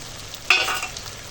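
Ginger-garlic paste drops into a hot pan and bursts into a loud sizzle that then settles into a steady frying hiss, with no one talking.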